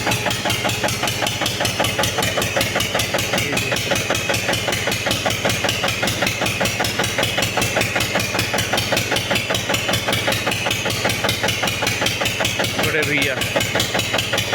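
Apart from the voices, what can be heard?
engine running a village flour mill (chakki)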